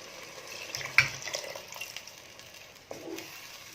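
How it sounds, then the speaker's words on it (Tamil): Tamarind water poured into a simmering Tamil-style fish curry gravy, giving a soft, steady watery splash and sizzle close by, with a brief louder splash near the start and no talking. "இப்போ நம்ம புளி தண்ணி ஊற்றிக்கலாம்."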